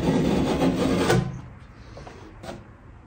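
A razor knife blade drawn along drywall to score it gives a steady, close rasping scrape for about a second. Fainter light scratching and rubbing follows.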